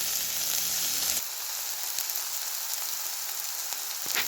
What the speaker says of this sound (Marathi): 2-3 मिनिटं हे थोडंसं आपण शिजवून घेऊया, म्हणजे टोमॅटो थोडंसं सॉफ्ट बनेल